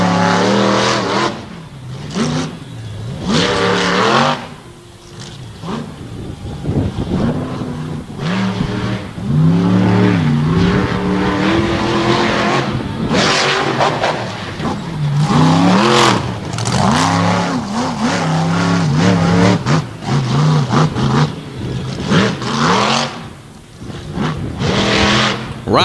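Racing truck at an All Star Championship event with a gearing change, engine revving and climbing through repeated acceleration pulls as it runs the track, loud and continuous with rising and falling pitch under faint commentary.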